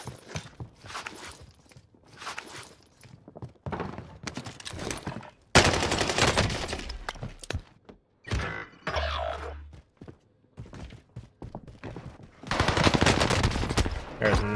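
Gunfire in the video game Warzone from a FARA 83 rifle during a close-range melee fight: repeated rapid bursts of shots and impacts, loud and punchy, separated by short gaps.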